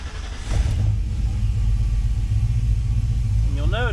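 A fuel-injected car engine, swapped from a FiTech to an Aces system, idling with a misfire: a loud, uneven low rumble that starts up and runs steadily, with a voice speaking over it near the end.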